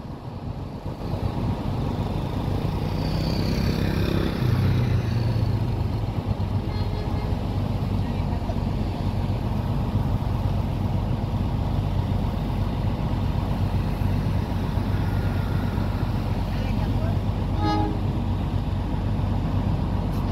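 A train runs fast over flooded tracks on the Tanggulangin–Porong line, a continuous loud low rumble and roar holding steady for about twenty seconds, close by, with a faint higher whine rising partway through.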